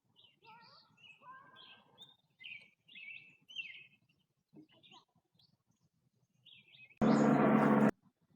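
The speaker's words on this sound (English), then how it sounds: "Listen to the birds." Small birds chirp and sing in short, scattered phrases, clear and fairly close against quiet, and a brief, louder noise burst interrupts near the end.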